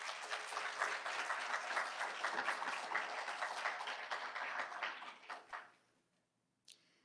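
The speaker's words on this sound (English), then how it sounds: "please give a round of applause to all of our sponsors" Sustained applause from the audience at an evening panel discussion in Chicago, dense and steady for about five seconds before thinning out to a few last claps and then silence.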